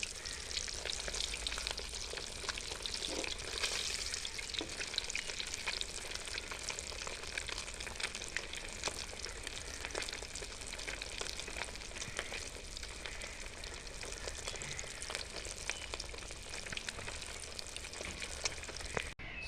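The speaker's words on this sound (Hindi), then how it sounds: "सारी फ़िश को मैंने फ्राई कर लिया है।" Fish pieces fry in hot oil in a pan, a dense continuous crackling sizzle with fine popping spatters that holds steady and moderately loud throughout.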